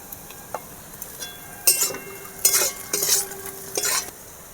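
Whole cumin, nigella seeds, chopped onion and green chilli fry in oil at home, with a light steady sizzle under several louder bursts of scraping and stirring against the pan.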